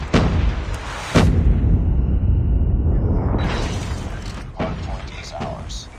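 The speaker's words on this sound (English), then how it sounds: "Hostile predator missile inbound." Predator missile strike in a military shooter game, with sharp blasts and a deep booming explosion followed by a long rumbling decay and a later crack, loud, with a game announcer voice at times.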